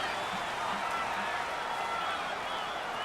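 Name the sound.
stadium crowd noise in Madden NFL 19 video game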